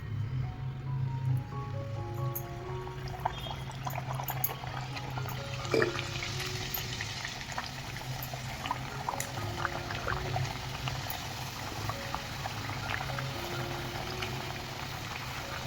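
Pumpkin gharge dumplings fry in hot oil with a steady bubbling sizzle heard close and alone, continuous throughout, without talking.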